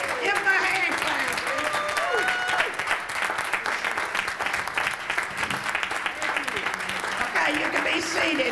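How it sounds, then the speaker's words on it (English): An audience claps for veterans in steady, sustained applause that lasts the whole stretch, with a voice speaking over it. "Give them a hand clap."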